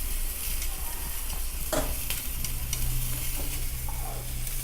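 Beer cheese sauce with sausage and peppers is stirred in a hot pan. A steady sizzle runs throughout, with scraping stir strokes on top and no voices.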